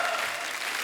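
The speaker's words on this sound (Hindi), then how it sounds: "जोरदार तालियों के बीच प्लीज वेलकम" A TV talk show studio audience bursts into loud, dense applause to welcome guest actors, a brief wash of clapping with no voices.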